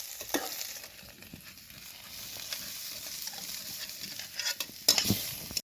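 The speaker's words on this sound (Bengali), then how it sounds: "এগুলোকে হালকা আমি ভাজা ভাজা করে নিলাম" Soybean chunks frying in a pan give a quiet, steady sizzle, broken by scraping stirs and a few louder clacks near the end, with no talking.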